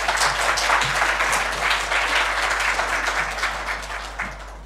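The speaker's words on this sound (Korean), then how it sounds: "우리 나오실 때 박수로 환영하도록 하겠습니다" Church congregation applauding to welcome a pastor to the pulpit, a dense, steady roar of many hands clapping that holds throughout and tapers slightly at the end.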